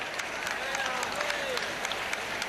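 A basketball arena crowd gives a player an ovation, a broad roar and clapping heard at a distance beneath a commentator talking over it, with squeaky shoe sounds from the court.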